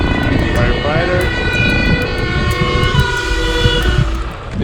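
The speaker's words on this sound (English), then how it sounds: "This is getting so agitated with sirens, with police." Wailing police, fire and ambulance sirens sweep up and down over a busy, noisy background in the Netherlands, with voices talking throughout.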